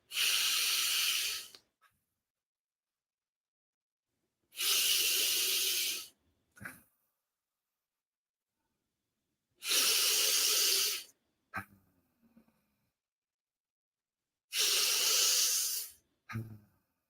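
Slow, deep meditative breaths, each long airy exhale lasting about a second and a half, repeating every few seconds with brief softer inhales between, close and alone in a quiet room.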